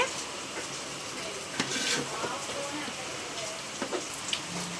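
Heavy rain falls outside during a large outdoor batch of chicken dum biryani cooking, a continuous hissing patter with occasional nearby clatters and brief voices.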